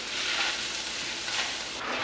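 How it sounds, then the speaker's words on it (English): Taco seasoning being stirred into drained ground meat in a big pot, a steady soft sizzle and scraping with faint swishes of the spoon, no talk. "I'll go ahead and stir that in there"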